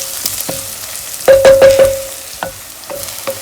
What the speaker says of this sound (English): we're going to add our eggplant and let this fry for another 10 minutes